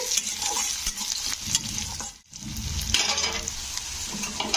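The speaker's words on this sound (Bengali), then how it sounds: "তো গাজরটাকে একটু ভেজে নিতে হবে।" Carrots frying in a pan with already-browned onions for semiya upma: a steady, close sizzle with repeated scraping stirs, briefly dipping near the middle before resuming.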